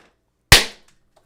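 A single sharp explosive bang from a sound effect, sudden and loud after near silence, then a quick decaying tail.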